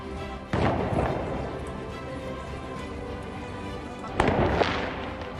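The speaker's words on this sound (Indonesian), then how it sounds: "petasan dibunyikan saat orang Yahudi berkunjung ke Bukit Moria" Firecrackers going off near Al-Aqsa Mosque on the Temple Mount, two loud close bursts of crackling pops about four seconds apart, each fading into a noisy, rumbling tail.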